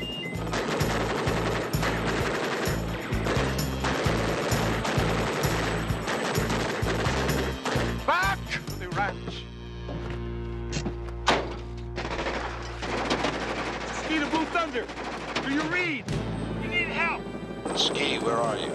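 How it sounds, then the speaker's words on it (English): Rapid machine-gun fire rattles in loud bursts as armor-piercing bullets strike a helicopter, with thudding impacts over the droning rotor and intermittent voices. "Being hit by armor-piercing bullets."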